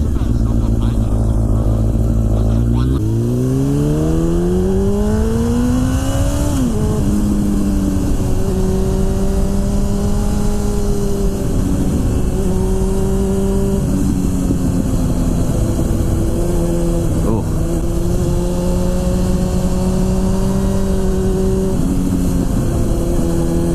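A Honda Fireblade motorcycle engine pulls hard through the gears on a ride, rising in pitch with each acceleration and dropping at shifts, loud and continuous with wind roar.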